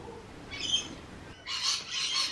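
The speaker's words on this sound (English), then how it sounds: "The parrots are really chatty this afternoon." Parrots squawk and chatter in bursts, one short call followed by a longer stretch of overlapping harsh calls, fairly close and alone with no talk.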